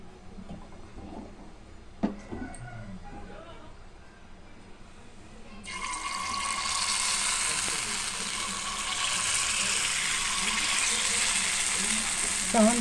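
Dosa batter meets a hot oiled pan and bursts into a loud, steady sizzle that rises and holds, after a few quieter clicks and taps; a voice talks faintly beneath.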